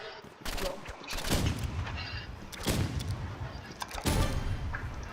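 Satchel bomb explosions and gunfire in the Roblox game Rivals: loud blasts land at about 1.3, 2.7 and 4.1 seconds. A steady rattle of shots runs between them, and a faint voice sits underneath.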